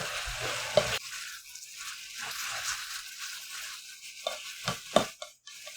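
Green onions are stirred into bulgogi sizzling in a hot Korean earthenware pot, a soft crackling fry with scraping spoon strokes and a few sharp clinks, close and fairly quiet.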